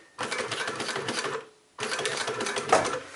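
A sewing machine stitches a roll-top bikepacking frame bag in two steady whirring runs of about a second and a half each, split by a short pause, close and clear with no talking.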